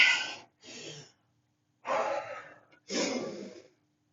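Heavy, winded breathing after exercise during a workout class on mats: three loud, close gasping breaths, each a rough rush of air, separated by short pauses.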